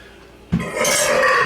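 A drawn-out burp after drinking a summer soda pop, starting with a sharp low onset and swelling into a loud, rough sustained belch close to the mic.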